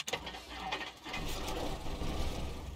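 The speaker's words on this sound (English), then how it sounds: "And now that the engine started" Cessna 172 engine in Microsoft Flight Simulator catching after a brief stuttering crank, then settling into a steady, close, broadband mechanical rumble that holds to the end.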